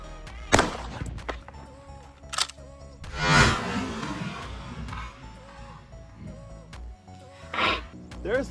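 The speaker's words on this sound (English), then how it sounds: "we're gonna use our ATA E-Tro Security pump shotgun, and we're gonna put a slug into this and see what happens" A pump shotgun fires a slug into a stack of 2x4 boards: a couple of sharp cracks ring out with loud splintering impact, interspersed with quieter handling noises.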